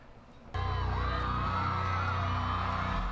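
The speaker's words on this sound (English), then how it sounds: "A lot of big crowd, which is always good." A big crowd at a Pierce the Veil show on Warped Tour 2015 suddenly erupts into loud cheering, whoops and screams after a quieter moment, the roar holding steady and dense over pounding low band sound.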